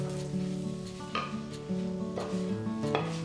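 Cherry tomatoes cooking in a pan, a soft close sizzle with occasional light clinks and stirring sounds over a faint tonal hum, no talking.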